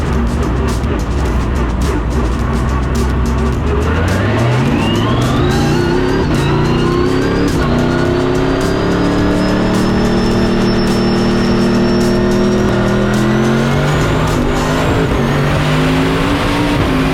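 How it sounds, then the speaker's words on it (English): A twin-turbo Corvette with an LS V8 screams past on a night time-attack track at Sydney Motorsport Park, loud and close, its engine note climbing through the gears in rising whines. "We'll love to hear that screaming LS one more time"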